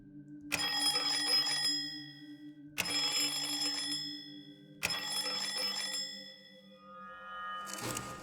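Three resonant bell chimes from the puzzle game Lorelei and the Laser Eyes, struck about two seconds apart, each ringing out with a long shimmering decay over a low steady hum, followed by a brief brighter chime.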